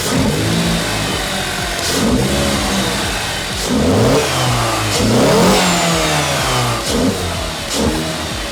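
An Alfa Romeo 159 engine revs repeatedly through a loud, raspy sport exhaust with an aftermarket air filter, rising and falling in several throttle blips with intake whooshes, close and loud.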